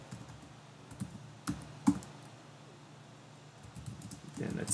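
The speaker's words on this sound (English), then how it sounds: "Then let's type git clone" Typing a command in a Kali Linux terminal on a computer keyboard: scattered key taps with two sharper strikes in the middle, then a faster burst of typing at the end, with low room noise and no voices.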